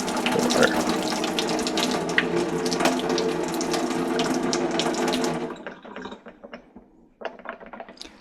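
Cooking water poured off ramen noodles from a pot into a sink, a loud steady splashing rush for about five seconds, then thinning to scattered drips and trickles.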